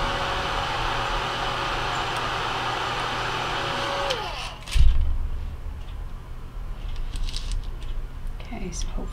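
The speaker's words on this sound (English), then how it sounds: "I kind of like to get it started in here by using my heat gun, so excuse the noise." A heat gun blows steadily at close range for about four seconds with a broad airy roar, then cuts off with a thump, leaving quieter handling noises while crafting a budget mascot head.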